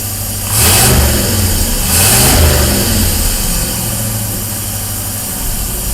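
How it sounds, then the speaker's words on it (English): Cadillac engine on its first start in a PovertyBego build, running at high RPM with two loud surging revs early on, then settling into a steady, loud fast idle. "We're running a little high RPM, but we'll see what we're doing here."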